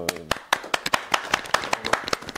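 A few people clap their hands in an uneven, loosely rhythmic series of sharp close claps, with talking mixed in.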